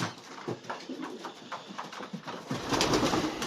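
Old Polish homing pigeons coo in a loft, a run of soft rhythmic coos repeating close by, followed by a louder burst of rustling or wing flutter near the end.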